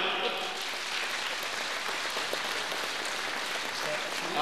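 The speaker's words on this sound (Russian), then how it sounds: "чувствую такие хорошие, дружные аплодисменты" Concert audience at a harmonica festival gala applauds with dense, steady, even clapping that fills the whole stretch at a constant level.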